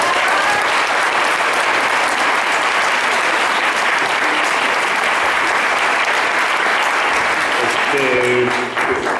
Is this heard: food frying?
no